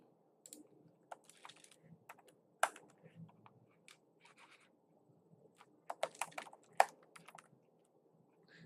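Typing on a computer keyboard: soft, quiet, irregular key clicks, with a couple of louder taps near the end that sound like the Enter key.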